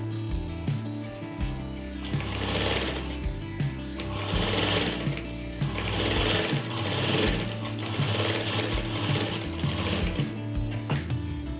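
Sewing machine stitching an apple-cut shirt, running in repeated bursts of rapid mechanical whirring and clatter, steady and close, with brief pauses between runs and no talk.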